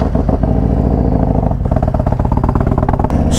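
A Harley-Davidson Low Rider ST rides slowly on a chilly, foggy morning, its engine giving a loud, close, steady throbbing rumble with dense rhythmic pulses throughout.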